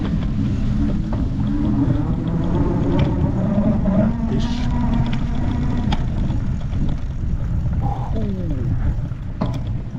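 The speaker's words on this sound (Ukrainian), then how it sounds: "Тут же пісок. Ладно, зараз будемо прогазовувати." A car engine revs on beach sand, a loud continuous low rumble rising and falling in pitch with a couple of throttle surges, heard close throughout.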